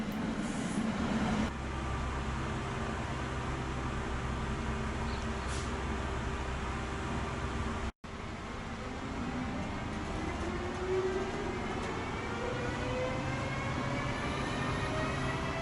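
A SEPTA ACS-64 electric locomotive hauls passenger cars on CSX's Trenton Subdivision, a steady loud rumble with a whining tone rising and sweeping upward in pitch, briefly cut out midway, no talk.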